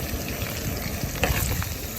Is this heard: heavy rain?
no